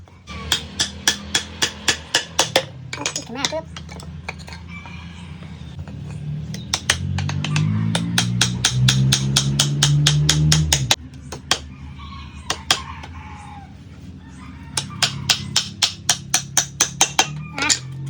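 Sharp repeated hammer blows driving nails into pallet wood, ringing in quick bursts, with a stretch of low machine-like humming in the middle, close by.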